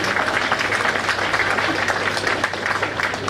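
Audience applause at a gathering in Hindi, a steady dense patter of many hands clapping that holds at an even level through the whole stretch, with no voices rising above it.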